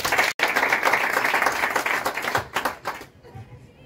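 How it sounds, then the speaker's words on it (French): An audience applauds for Marc-Ulrich Malekou at a formal presidential ceremony, a loud, dense burst of many hands clapping with a brief break near the start, then fading away to near quiet. "que je demande d'applaudir s'il vous plaît"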